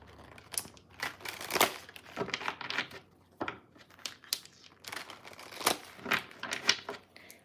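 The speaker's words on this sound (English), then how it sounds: "Let's get y'all a good shuffle going." A deck of tarot cards is shuffled by hand at close range, producing irregular bursts of crisp riffling and flicking with short pauses between, and no talking.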